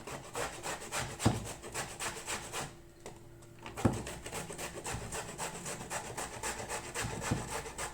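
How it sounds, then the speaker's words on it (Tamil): Peeled tapioca root rubbed against a carrot grater, rapid rhythmic rasping strokes close up with a short pause partway through and occasional knocks. "இந்த மாதிரி கிழங்கை வந்து தோல் சீவிட்டு கழுவி எடுத்தாச்சு இதை வந்து இந்த கேரட் துருவரை வச்சு நல்லா துருவி எடுத்துக்கலாம்"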